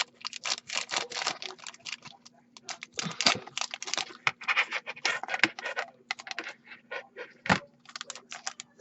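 Small scissors cut open a miniature chocolate candy package, with rapid, close crinkling and snipping of plastic wrapping in dense irregular bursts.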